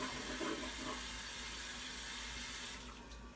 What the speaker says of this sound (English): I was saying before somebody flushed the toilet